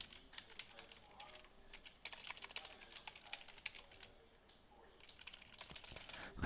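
Fast, steady typing on a computer keyboard during a coding session, dense clicking keystrokes in bursts with brief pauses, quiet and close.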